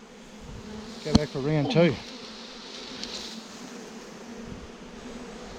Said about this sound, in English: Just trying to get the bees in.